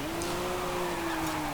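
A 1997 Toyota Soarer 2.5 GT-T in Forza Horizon 5 sliding its rear end out, the engine holding a steady, slightly rising drone at moderate volume with no voices over it.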